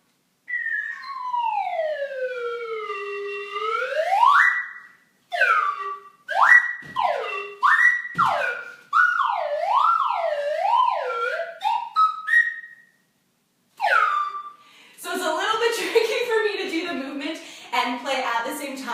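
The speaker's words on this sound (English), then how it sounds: "I'm just playing the slide whistle and the kids are moving" A slide whistle plays sweeping glides and wavering swoops up and down in a preschool dance class, loud and close with short pauses between phrases, ending in a noisier burst.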